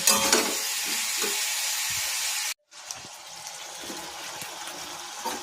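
Chicken stew is stirred in a pot, giving a steady scraping, sizzling wash that breaks off briefly midway and then resumes more quietly.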